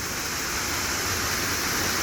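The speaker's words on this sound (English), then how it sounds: "It's these cascading falls ending in this basin below." Cascading waterfall at Lost River, New Hampshire, pouring into a basin below: a loud, steady, broadband rush of falling water that fills the whole clip with no break.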